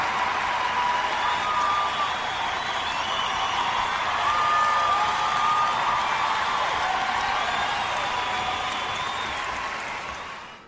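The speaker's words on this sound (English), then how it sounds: "I'm glad that they've kept this dragging on for the applause" A large concert audience applauds after a performance, a long, dense, steady wash of clapping with light cheering that holds for around ten seconds before tapering off at the close.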